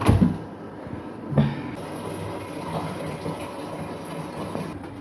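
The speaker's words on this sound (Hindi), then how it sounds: "चलो हम पानी भर लेते हैं इसमें" Tap water running into a bottle during a water shortage at home, a steady close gurgling fill with clunks and handling knocks near the start and around one and a half seconds.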